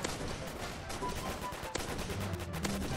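Rapid gunfire from Roblox zombie-mode combat, shots rattling in dense bursts for the full three seconds, loud and close with layered game sound and no speech.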